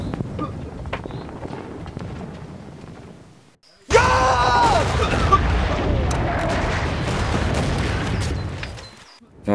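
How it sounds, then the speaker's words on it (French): Heavy First World War artillery cannonade: a quieter stretch of rumbling booms, then from about four seconds a dense, loud barrage of sustained roaring blasts and crackling fills the rest, with no clear speech. "La canonnade s'intensifie"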